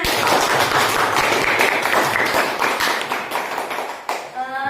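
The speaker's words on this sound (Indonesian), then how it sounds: "Tepuk tangan semuanya." Dense, steady clapping from a group, sustained for several seconds before tapering off near the end.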